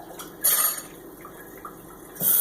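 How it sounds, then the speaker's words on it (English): Water splashing and sloshing inside a bottle as it is rinsed, with two louder bursts of pouring at the start and end and quieter dripping trickles between. "rinse out this bottle first"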